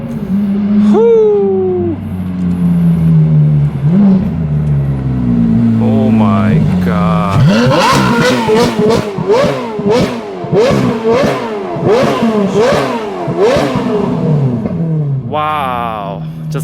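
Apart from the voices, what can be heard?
Ferrari 430 Scuderia with Agency Power titanium exhaust revving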